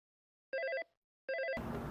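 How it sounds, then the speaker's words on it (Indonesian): A telephone rings two electronic trilling bursts, each about a third of a second and separated by a short pause, clear and alone before louder background noise cuts in. "Ada telepon nih."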